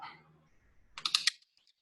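A computer keyboard typing a search term, a quick close burst of a few sharp key clicks after a short quiet gap, with a faint trace of voice at the very start.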